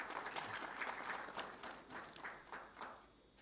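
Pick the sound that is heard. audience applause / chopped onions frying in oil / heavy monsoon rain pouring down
audience applause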